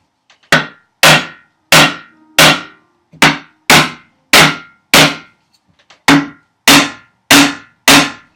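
Sharp, ringing hammer blows on nails, about thirteen strikes in a steady rhythm with one short pause, loud and close with nothing else around.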